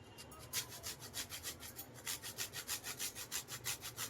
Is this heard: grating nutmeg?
yes